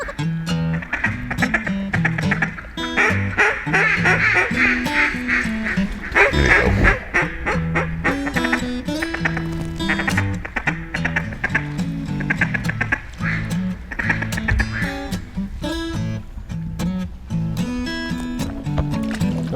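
Ducks quack and honk continuously during a timber duck hunt in Stuttgart, Arkansas, a dense loud chorus of many overlapping birds close by, with hunters' voices mixed in.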